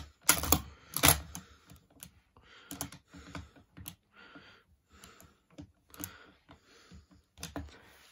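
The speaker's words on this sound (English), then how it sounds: "That's me trying to cock it with one hand. It's a very nice bolt on this." Bolt of a deactivated bolt-action rifle of the kind seen in the 1979 All Quiet on the Western Front, worked one-handed: a series of sharp, close metallic clacks and slides in irregular rhythm with short quiet gaps.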